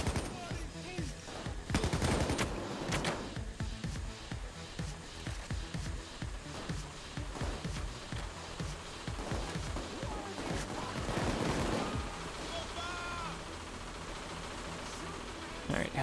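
PayDay 2 bank heist firefight, with irregular bursts of automatic gunfire and single shots, moderately loud, mixed with scattered game noise and voices talking over it.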